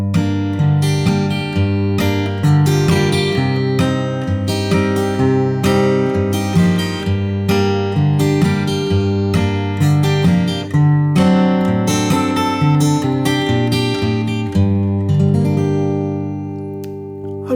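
A guitar is strummed steadily with rhythmic chord changes, playing a song loudly and continuously without any voice.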